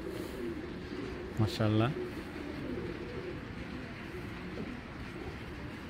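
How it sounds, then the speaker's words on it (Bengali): A big racing pigeon gives one short, close coo against a steady background hum, while someone speaks nearby. "এই কবুতরটা দেখেন"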